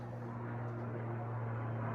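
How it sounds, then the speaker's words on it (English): An airplane drones overhead with a steady, low engine rumble throughout, moderately loud and continuous with no voices. "Airplanes."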